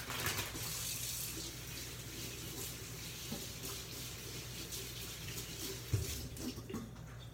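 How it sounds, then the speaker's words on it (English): Asparagus is rinsed under a running kitchen tap, giving a steady close rush of water with small splashes and shifts as the spears move through the stream, and no talking. "I'm gonna go ahead and wash them first."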